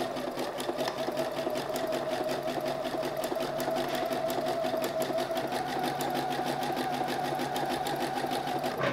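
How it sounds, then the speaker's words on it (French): A sewing machine runs steadily and close by for the whole stretch, stitching elastic onto a marked line to make gathers, with a continuous even mechanical whir and no talking over it. "on pique avec précaution parce qu'il faut que l'élastique soit bien sur la ligne qu'on a tracée"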